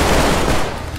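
Rapid automatic gunfire from friendly fire in a shooter video game, a dense continuous burst of shots lasting about a second, loud and close with no talk.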